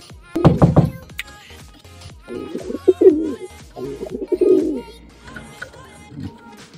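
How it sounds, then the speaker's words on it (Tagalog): Close pigeons coo in soft, throaty bursts in their loft, with a few flutters and knocks at the start and quiet rustling between calls. "Pakita muna natin yung may laman na ibang kalapati dito sa ugadan nila."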